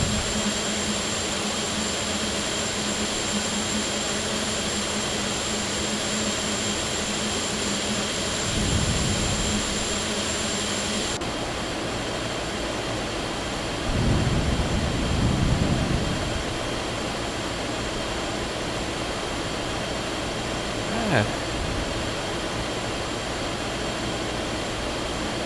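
Jet engine roar from a climbing airliner in the X-Plane 11 flight simulator, a constant loud broadband rush with a steady tonal whine, shifting slightly partway through and carrying a few brief bumps, no voices.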